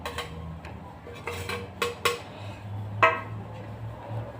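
Spoon clinking against a bowl while garlic, green chilli and chopped onion are stirred into millet batter, with a few sharp metallic taps and scrapes over a low background hum.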